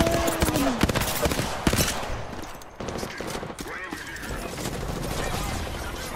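Rapid gunfire bursts and single shots crack through a shooter video game firefight, dense and loud throughout, with players talking over the shooting.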